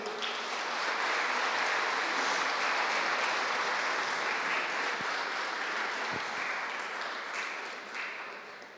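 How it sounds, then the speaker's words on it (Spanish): Audience applauding a panel at a colloquium in the Argentine Congress, a full, even roar of clapping that holds steady for several seconds before easing off slightly at the end, with no talk over it. "por favor, un fuerte aplauso"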